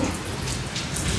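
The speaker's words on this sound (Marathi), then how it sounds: "किती भयानक पाऊस चालू आहे बघू शकता इकडं" Heavy rain pours down in a steady, dense roar of drops hammering surfaces, loud and continuous with no pauses.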